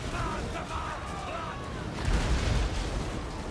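Total War Warhammer battle with massed gunfire and artillery shooting, a dense, loud rumble of overlapping shots that swells near the end, with a voice talking over it.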